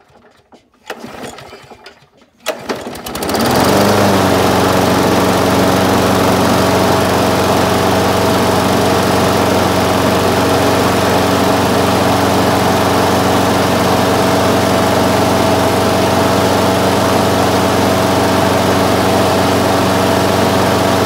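Craftsman push lawn mower engine after a fuel line change, a few faint handling noises, then the small engine catches and settles into a loud, steady close running drone that continues unbroken.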